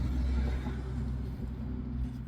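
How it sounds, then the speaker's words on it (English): Road traffic passing at night, a low rumbling vehicle engine swelling nearby and then easing off, with a steady hum underneath and no voices. "A lot of traffic going down our road tonight."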